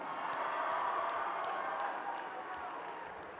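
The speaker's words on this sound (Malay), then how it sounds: "Tepukan untuk diri kita yang ada di dalam." A gathered audience at a squad launch ceremony applauds and cheers together. The dense clapping and crowd noise hold steady, then ease off slightly toward the end.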